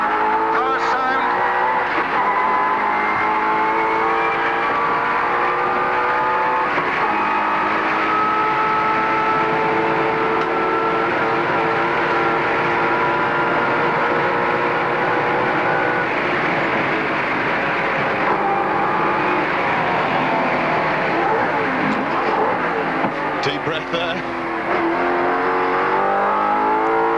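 A race car engine at the 1990 Bathurst race roars steadily at high revs, its pitch rising and falling as it accelerates and shifts, with a commentator talking over it throughout.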